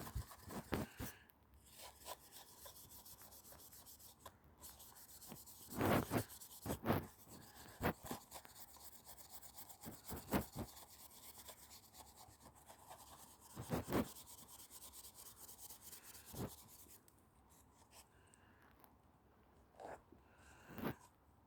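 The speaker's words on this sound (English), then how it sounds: "I'm just going to rub this with my steel wool." Steel wool rubbed over a cold cast bronze model in soft, scratchy strokes, quiet and close, with a few sharper scrapes between gentler rasping passes.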